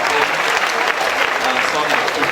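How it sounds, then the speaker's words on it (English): A university audience claps, a dense, loud round of applause filling the room for a short stretch. "Please, another round of applause for Isaac Alate"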